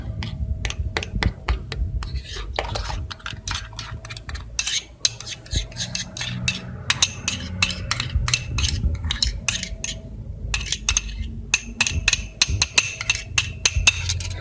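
Brisk whisking of dough for kriyssat pastries, a metal utensil clicking rapidly and repeatedly against a bowl in steady rhythmic bursts with short pauses, close and loud.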